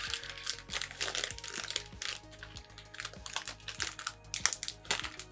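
A wrapped chocolate-glazed sponge cake from Turkey is unwrapped up close, with its plastic packaging giving a run of quick, dense crinkles and rustles at a quiet, steady level.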